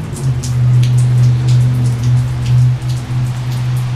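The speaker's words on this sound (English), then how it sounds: "The rain is just so depressing." Heavy rain patters steadily on a surface, close and loud, over a constant low hum, with no one speaking.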